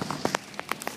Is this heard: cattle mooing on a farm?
no